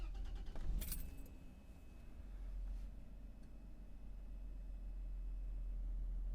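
Keys jingle briefly, then a Toyota 1FZ-FE engine with quiet stock OEM exhaust starts and settles into a low, steady, subdued idle rumble.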